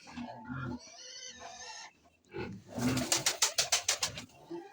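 Pigeons in an aviary give rhythmic cooing pulses, close and fairly quiet, mixed with soft voices talking nearby.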